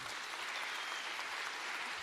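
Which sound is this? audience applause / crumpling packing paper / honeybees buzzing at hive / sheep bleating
audience applause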